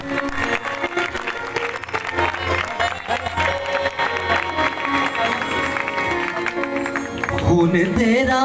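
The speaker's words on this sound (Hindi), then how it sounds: "तालियां बजाएं खुदा के खादिम के लिए जोर से" A loud audience applauds for a long stretch at an evening gathering in Chak 7, Faisalabad: dense continuous clapping layered over music and voices, swelling toward the end.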